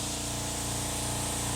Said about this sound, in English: Now we're gonna get everything set up and get ready to spray.